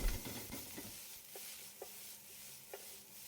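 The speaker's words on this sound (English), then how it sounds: "Add the garlic and stir fry for a further 30 seconds." Garlic and vegetables stir-frying in a wok make a quiet, steady sizzle, broken by a few faint, sharp clicks and scrapes of stirring, with no talking.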